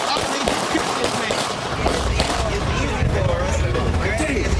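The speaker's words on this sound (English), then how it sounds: "you hear the gunshots" Rapid police gunshots in replayed news footage of an officer confrontation, loud dense bursts of gunfire mixed with shouting and raised voices throughout.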